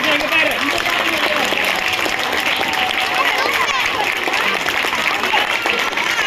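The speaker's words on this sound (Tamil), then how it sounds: "எல்லாரும் ஒரு பெரிய கிளாப் பண்ணுங்க" A loud, sustained burst of audience applause at an SSM Nagar community event, dense clapping filling the whole stretch with a faint crowd murmur beneath it and no clear talking.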